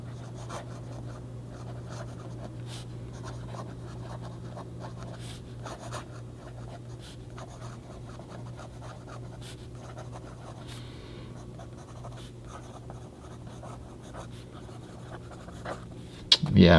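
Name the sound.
Swan Mabie Todd fountain pen writing on Rhodia paper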